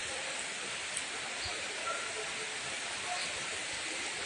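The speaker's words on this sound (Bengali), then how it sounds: "দেখেন 2026 সালের প্রথম বৃষ্টি এটা ঢাকা সিটিতে।" First rain of the year falling over Dhaka city with some wind, heard as a faint, steady, even hiss with no breaks.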